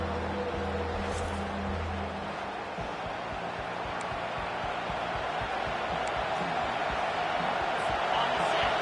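Stadium crowd noise from the College Football 25 video game during a 3rd-and-long play, a steady broad roar with thumping undertones that swells slightly toward the end, under a low voice.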